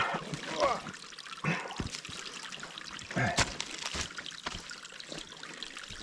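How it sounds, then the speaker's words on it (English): Shallow water trickles and pours past a row of sandbags built up in a stream, with a continuous close babble and splashing broken by a few louder bursts and occasional knocks. "we build these sandbags up, not to stop the water, but slow the trickle down so it builds up to a higher bank"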